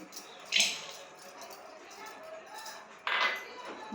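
Jaggery dropped into a metal cooking pot gives two clinking knocks about two and a half seconds apart, close and moderately loud, over a quiet kitchen background.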